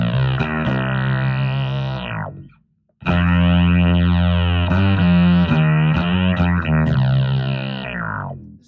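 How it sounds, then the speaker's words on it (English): A bass run through effects gives a thick, distorted, Moog-like synth tone in two loud sustained phrases with shifting pitched notes, split by a short gap, close and with no talk. "it's kind of like almost like a Moog type of sound"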